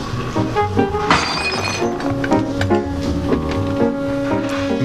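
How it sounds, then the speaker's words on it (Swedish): Packages of glass marked fragile flung onto a stone floor, one loud crash of shattering glass followed by tinkling shards and thuds, under a bed of music. "Medan Carl Bertil Jonsson stod och slängde in paket med påskriften Aktas glas på stengolvet i fragila avdelningen"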